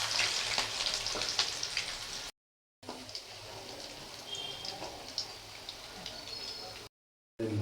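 Shrimp fritters in rice-flour batter frying in oil give a crackling, bubbling sizzle, broken by two short silent gaps, with faint clinks now and then.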